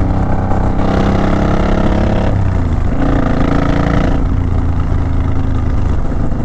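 A Suzuki Boulevard M109 motorcycle engine drones loudly and continuously while riding, with shifts in pitch and a heavy low rumble mixed with strong wind rush.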